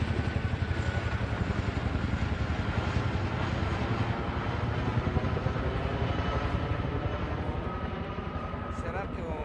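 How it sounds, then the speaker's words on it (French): A large army helicopter flying overhead, a steady low throbbing rotor and engine drone that fills the background, continuous and fairly distant. "Voilà, l'hélicoptère de l'armée."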